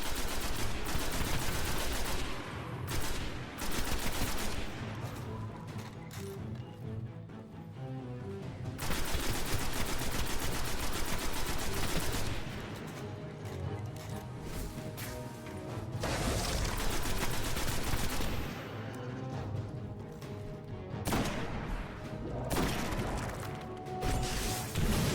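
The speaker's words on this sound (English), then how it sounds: "the rocket launcher is incredibly handy for group kills as long as you aim it correctly" Heavy gunfire and rocket launcher blasts from the video game Destiny during a strike mission, with sustained loud bursts of shooting and explosions filling most of the stretch, easing briefly between volleys.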